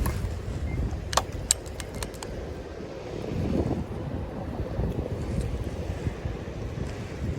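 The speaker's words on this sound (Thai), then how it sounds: "ลมพัด ลมพัด" Wind blows outdoors during slingshot practice, buffeting the microphone as a continuous low roar that swells and eases, with a few brief sharp clicks early on and no talking.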